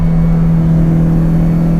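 Ferrari Dino GT4 engine droning steadily from inside the car while driving, a loud, constant low hum with a strong steady tone and no pause.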